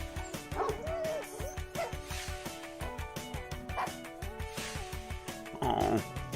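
Small dog yipping, barking and whimpering in short bursts, close and fairly loud, over steady background music with a voice talking.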